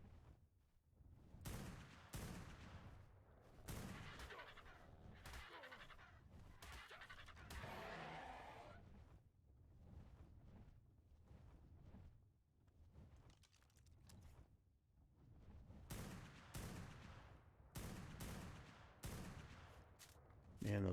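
Gunfire in the Ark Primal Fear game on Lost Island, with repeated sharp shot bursts spread across the stretch amid busy in-game action and some rumbling noise.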